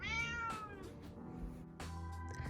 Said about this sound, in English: we got a kitty.